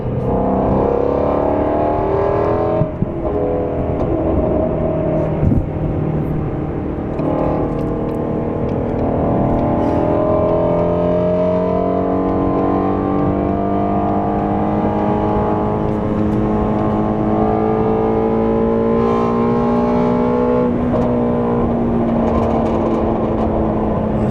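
Loud, sustained engine drone from a Ford Mustang GT350 with a Corsa exhaust accelerating in third gear onto a highway, pitch climbing steadily through the run toward about 7,000 rpm, heard from inside the car.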